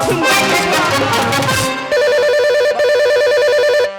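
A telephone ringtone plays a bright electronic melody that loops steadily and loudly, starting just after a burst of music cuts off.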